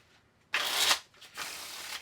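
A deck of playing cards shuffled for a magic card trick, two quick riffling bursts close by, the first louder and the second softer and longer.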